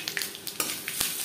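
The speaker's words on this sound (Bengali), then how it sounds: "লঙ্কা ভেজে নেওয়ার পর দিয়ে দেব 5 ফোড়ন" Three dried chillies fry in hot mustard oil, a short, faint sizzle with a few light spattering pops and scraping stir sounds, close by and without any talking.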